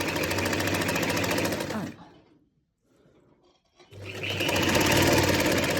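A sewing machine stitches a round kameez neckline, running loud and fast, pausing briefly to near silence, then starting up again at full speed close by.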